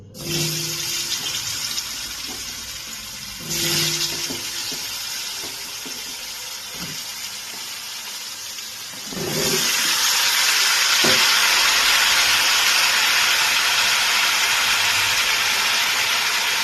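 Cut pumpkin pieces drop into hot oil seasoned with bay leaf and burst into a loud, steady sizzle that holds on alone, with softer frying hiss and a few stirring clinks before it.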